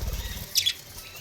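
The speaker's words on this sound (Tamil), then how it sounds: "இவங்க வந்து லவ் பேர்ட்ஸ்." Pet lovebirds in a home garden aviary give a quick bright chirp pair, close and clear over low background rumble, with a possible brief wing flutter.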